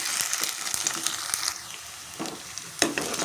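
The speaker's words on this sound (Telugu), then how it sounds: "చూడండి ఇలా ఫ్రై అయితే సరిపోతుంది." Ginger garlic paste frying in a pan for egg curry, a steady soft sizzle with scattered crackles and a few scraping stir sounds, close and moderately quiet.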